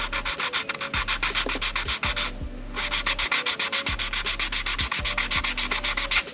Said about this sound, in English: gonna try to hit it with a 600 grit and see if it'll take it down a little bit